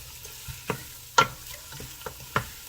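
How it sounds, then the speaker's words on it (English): Linguiça sausage frying in a pot during an Azorean village bean stew, with a low steady sizzle broken by a handful of sharp stirring scrapes spaced irregularly, close and fairly quiet. "Now I'm gonna add the linguiça. Keep stirring a little bit."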